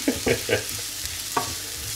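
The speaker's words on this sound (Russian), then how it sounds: "Так что лук не должен сгореть. Видишь, я мешаю?" Onions frying in a pan at home are stirred with a few scraping strokes, short clustered bursts over a steady sizzle, close and fairly quiet.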